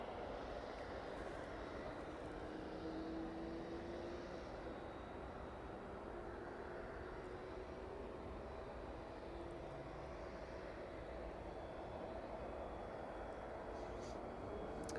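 A Cessna Citation business jet taxis out at East Midlands Airport, its steady engine whine and rumble continuous and moderately distant, with faint talk in the background.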